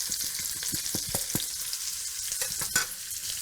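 Carrots with curry powder and coriander fry in a pot, a steady crackling sizzle broken by quick stirring scrapes and clinks, close and with no talk.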